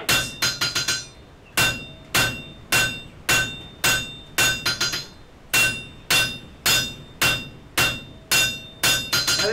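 Hammer forging wrought iron while drawing out a taper, sharp ringing metallic blows landing in steady rhythmic bursts of several strikes with short pauses between, loud and close with no talk.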